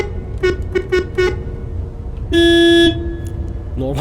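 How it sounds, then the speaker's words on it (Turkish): Mercedes Travego bus horn in Euro Truck Simulator 2 gives four short close toots followed by one longer loud honk, over a low engine rumble. "Normal kornası çok yüksek."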